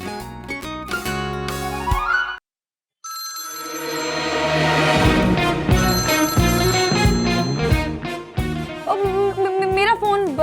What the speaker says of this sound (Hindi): मेरा फोन बज रहा है, लगता है वो मुझे कॉल कर रहे हैं।